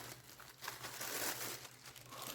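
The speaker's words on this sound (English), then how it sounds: "And I do apologize for the crinkling." Plastic wrapping around a package of yak-blend yarn crinkles and crackles as it is opened, a brief close rustle with no talking.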